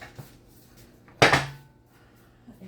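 Plates and a fork are set out for supper at home: a few light clinks, then one sharp ceramic clatter of a plate set down, followed by faint small taps in a quiet room.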